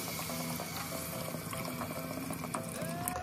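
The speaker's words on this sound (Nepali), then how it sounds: "यसलाई मजाले चलाउने, अनि पानी लाएर सिटी लगाइदिने।" Water poured into a pressure cooker holding pork leg and dal, a steady splashing trickle with faint clinks, heard up close with no talking.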